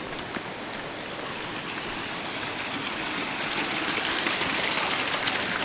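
A river near Goris, Armenia, flowing on a rainy day, a steady, full broadband rush of water that is close and constant and grows slightly louder toward the end.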